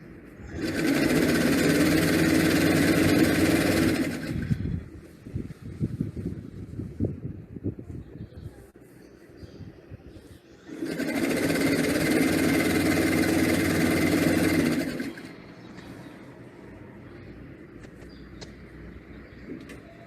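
A small portable sewing machine stitches a dish towel in two loud, steady whirring bursts of about four seconds each. Quieter clicks and handling noises fill the pause between the runs.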